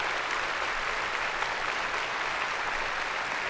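Sustained applause from a crowd, an even wash of clapping that carries unbroken throughout without any speech.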